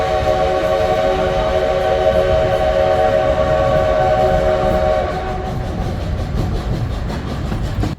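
A coal-fired steam locomotive near Cumbres Pass in the mountains sounds a long, loud, steady whistle over rumbling rail noise, the whistle cutting off and the train noise continuing.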